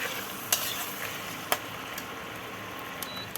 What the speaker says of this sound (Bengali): সব ঝিনুকগুলোকে আমি ভেজে নেব, ভালো করে আমি লাল লাল করে